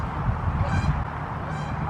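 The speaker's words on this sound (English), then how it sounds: "These ducks are getting on my nerve because when they see the jerky, they all come." Ducks near a lake, gathering around someone fishing, honk and quack in a continuous nearby chorus, with no talk over it.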